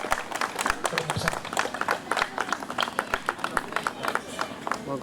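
Loud applause at a public gathering, dense rapid clapping from many hands that carries on steadily with sharp individual claps standing out, close and continuous, with a voice speaking underneath.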